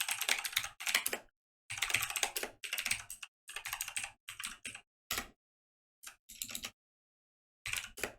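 Someone types a command on a computer keyboard, with fast bursts of crisp, close key clicks separated by short pauses.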